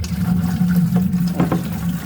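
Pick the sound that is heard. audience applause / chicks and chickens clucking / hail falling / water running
water running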